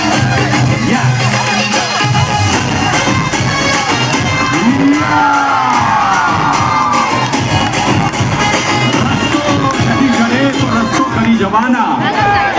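Crowd cheering, shouting and whooping at a matki-breaking event, a continuous loud din of voices with scattered yells throughout, and a voice speaking over it.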